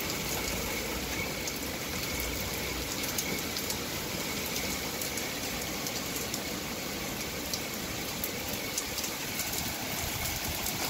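Steady rain falls during a storm, a dense unbroken hiss that holds at an even level throughout, with no voices and no distinct drops standing out.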